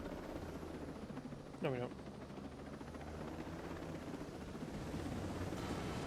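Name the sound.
helicopter flying in the video game Ghost Recon Breakpoint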